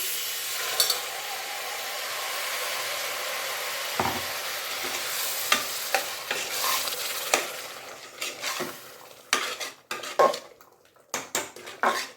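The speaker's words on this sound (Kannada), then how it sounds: "ಈಗ ನಾವು ರುಬ್ಬಿ ಎತ್ತಿಟ್ಕೊಂಡಿರೋಂಥ ಟೊಮೆಟೊ ಈರುಳ್ಳಿನ ಹಾಕ್ತಿದ್ದೀನಿ" Ground tomato and onion paste for hotel-style kabuli chana masala being added to a hot pan and stirred, clattering metal spoon knocks and scrapes over a soft sizzle, growing busier and more irregular toward the end, with no talk.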